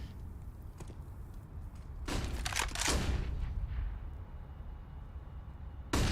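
Bursts of gunfire from a Counter-Strike match fired through a wall: a cluster of sharp rapid shots in the middle, a few scattered single shots, and one more at the end, heard faintly over a steady background.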